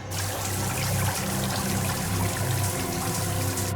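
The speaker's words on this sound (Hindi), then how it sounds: "सबमरीन में दरार आ गई सर। पानी तेजी से नीचे आ रहा है।" Water rushing in through a crack in a submarine hull, a loud, steady, continuous hiss and gush of pouring water filling the whole stretch without talk.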